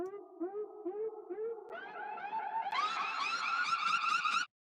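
A synth line with a low-pass EQ filter opening up, its repeated gliding notes growing brighter and louder in stepped stages before cutting off abruptly.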